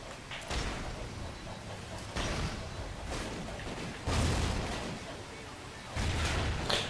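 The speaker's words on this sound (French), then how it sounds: "Une petite grenade là." Grenade explosions and gunfire in the Call of Duty Ghosts campaign: several heavy booming blasts land at intervals a second or two apart, each with a thudding low end and a crackling tail, over quiet game ambience.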